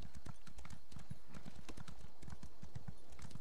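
A horse's hooves clip-clop at a steady walking rhythm in The Elder Scrolls Online, a regular run of close, crisp footfalls continuing throughout at low level.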